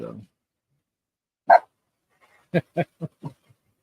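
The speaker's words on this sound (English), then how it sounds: "he's got a dog with him too" A dog at a hunting camp barks once, then gives a quick series of four sharper barks, fairly close and clear against otherwise quiet surroundings.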